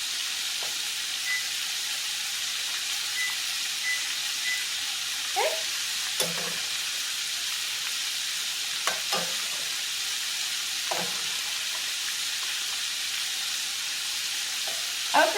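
Okra fries and browns in a pan with a soft, steady sizzle, interrupted now and then by a few scrape-and-clatter stirs close by.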